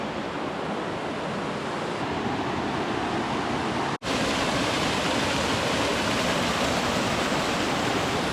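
A big river swollen and murky after heavy rain in a remote New Zealand forest, rushing with a steady, dense roar that stays loud and close throughout, broken only by a momentary drop, with no voices.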